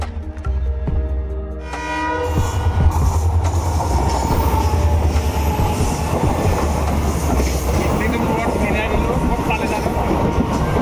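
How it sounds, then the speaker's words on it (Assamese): A train rolls past nearby with loud rumbling wheels and clattering cars, a horn-like tone sounding early on, and people's voices faintly mixed in near a jungle setting. "ট্ৰেইন আহি গ'ল।"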